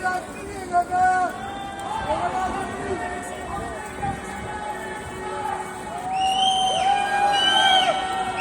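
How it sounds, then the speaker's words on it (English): Protesters on a Montreal street march cheer as another group approaches, with scattered crowd shouts and cheering rising toward the end over steady street hubbub. A nearby voice talks throughout. "We can hear cheers now as the group recognizes Another contingent that is approaching"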